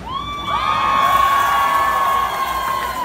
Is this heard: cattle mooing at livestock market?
no